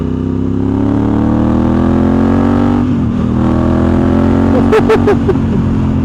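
A 2024 Honda CRF1100 Africa Twin motorcycle with an aftermarket exhaust idles loudly with a deep, throaty tone, then is revved in several quick, sharp blips near the end.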